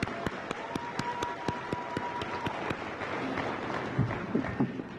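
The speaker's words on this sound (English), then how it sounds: "deserves a round of applause" Applause for Dr. Mian at a university commencement ceremony, a scattered run of sharp claps over a busy crowd wash, thinning toward the end, with faint murmuring beneath.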